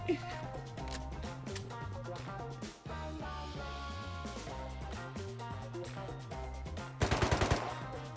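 MP5 submachine gun fire in the survival game Rust comes as a sharp, rapid burst near the end, set over steady game music and ambient layers.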